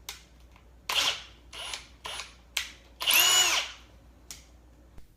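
A power drill bores holes into a piece of wood while building a photo frame, in several short whining bursts separated by brief pauses, close and fairly loud.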